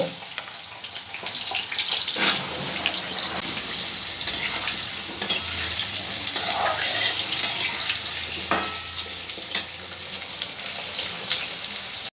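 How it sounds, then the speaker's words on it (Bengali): Potatoes fry in moderately hot white oil in a wok, giving a steady, loud hiss and sizzle throughout with a few brief clatters, and no voices. "এবার আলুগুলো আমি সব তেলের মধ্যে দিয়ে ভেজে নেব।"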